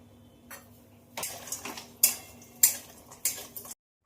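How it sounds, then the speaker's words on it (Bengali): Lentil dumplings (bori) frying in a pan of hot oil in a home kitchen, heard as quiet sizzling bursts with a few sharp clinks and scrapes of a spatula against the pan, ending abruptly. "মাছের ঝোলে একটু বড়ি দেবো বড়িটা একটু ভেজে নেবো"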